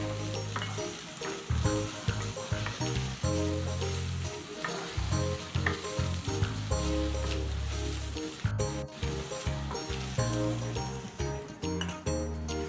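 Onion and garlic sautéing in a pan for lugaw: a loud, close, steady sizzle broken by repeated stirring scrapes and clinks of a utensil, with no talking.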